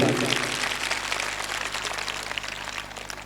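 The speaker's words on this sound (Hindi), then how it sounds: "एक बार जोरदार उनके लिए तालियां।" Crowd clapping at an honouring ceremony, a steady wash of applause for Rajbala's parents with a low hum underneath and some voices mixed in.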